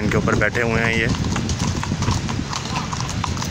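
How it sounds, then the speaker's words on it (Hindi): Several horses clip-clopping on pavement as they arrive in a park for a National Day parade, steady hoof beats close by, with someone talking over them and crowd noise around. "ये देखिए माशाल्लाह कितने घोड़े आ रहे हैं"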